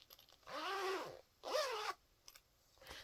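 A zipper on a sewn cross-stitch pocket runs twice in quick, close pulls, each lasting about half a second, followed by small faint clicks.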